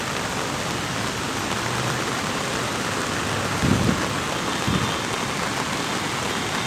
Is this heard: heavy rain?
yes